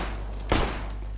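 A single sharp gunshot from the video game Counter-Strike cracks out mid-clip, brief and fairly loud over a steady low background hum.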